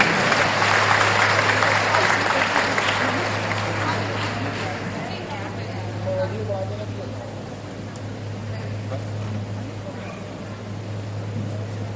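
An audience applauds at an all-India administrative conference organised by the Brahma Kumaris administrative service wing. Steady clapping is strongest in the first few seconds, then fades over a constant low hum and faint murmur.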